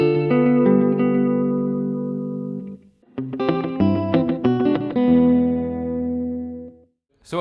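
Electric guitar played through a Strymon El Capistan tape echo pedal set for echo, sustained chords and picked notes with repeating echoes and a lush reverberant tail, loud and alone.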